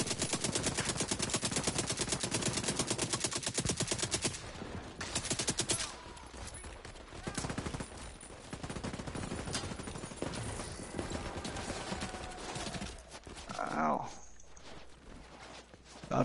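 Video game gunfire, rapid sustained automatic bursts dominating the first few seconds, then more scattered shots and clatter continuing under a talking player.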